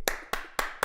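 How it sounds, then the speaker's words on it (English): Four sharp, separate hand claps spaced at an even, unhurried pace on a podcast set, close and fairly quiet, with no talk over them. "Give her a hand clap"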